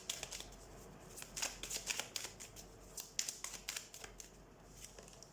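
Tarot cards are shuffled by hand in quick riffling bursts of crisp flicks and slaps, close but quiet, with no talking over them.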